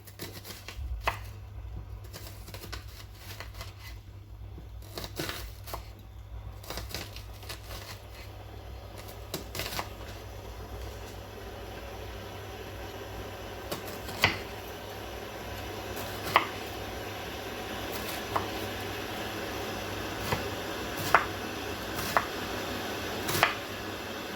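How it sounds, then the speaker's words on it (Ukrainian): Half an onion is chopped into small cubes with a knife on a board, a series of irregular light taps and crisp cuts, quiet at first and growing sharper later. "Пів цибулинки я наріжу хлібними кубиками"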